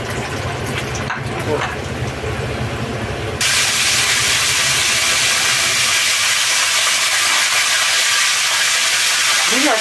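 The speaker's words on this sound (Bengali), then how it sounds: "এখানে 5 থেকে 3টা 6-7টা মতো আছে, আমি ভেজে নিচ্ছি।" Loitta fish frying in hot oil, a loud, steady hiss of sizzling that jumps sharply louder partway through and then holds as a dense, continuous wash.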